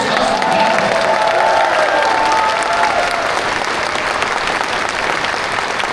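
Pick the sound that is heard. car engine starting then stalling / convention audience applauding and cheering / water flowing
convention audience applauding and cheering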